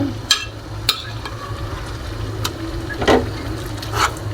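Grated carrots fry in ghee for carrot halwa with a steady sizzle, close by. A spoon scrapes and clinks sharply against the pan several times.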